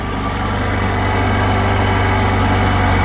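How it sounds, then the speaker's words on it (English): A Saturn Sky car engine idles steadily and close by, a low even rumble with a faint rhythmic pulse throughout, no voices. "as you can hear, the engine is running, engine sounds good."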